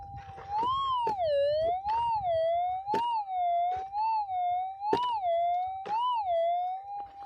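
A loud, wavering electronic metal detector tone with a 15-inch concentric coil warbles up and down continuously over a gold nugget patch in gravel, broken by sharp scraping clicks at irregular intervals.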